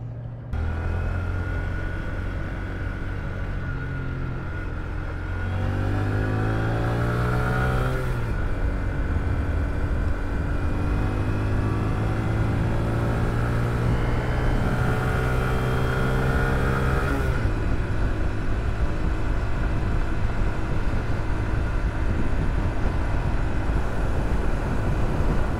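A Honda Grom motorcycle carrying two riders hums along steadily, its small engine note rising and falling through gear changes and accelerations, close and continuous over road and wind noise, with no talking.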